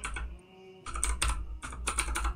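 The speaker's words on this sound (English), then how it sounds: "Put a password in here." A computer keyboard is typed on in two quick bursts of clustered keystrokes, close and crisp, as a password is entered while installing Pop!_OS 22.04. A brief pause separates the bursts, and no one speaks.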